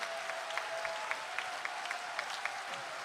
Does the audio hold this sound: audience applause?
yes